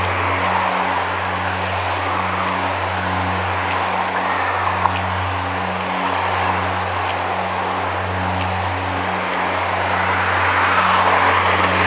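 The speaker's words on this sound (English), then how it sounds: "This is crosstown traffic." Crosstown street traffic in Victoria heard from a bicycle, a steady low engine drone with faint passing hiss and no voices.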